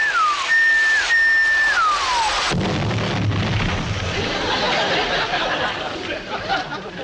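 A loud explosive burst erupts as toy Lionel model trains blow up after falling whistles, followed by a long rumbling, crackling roar that slowly fades.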